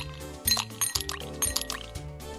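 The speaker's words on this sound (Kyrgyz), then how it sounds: "Жана муз чакмактарын салгыла." Ice cubes drop into a glass of water in a few distinct clinks and plops, with short bright knocks spaced about half a second apart, close and alone.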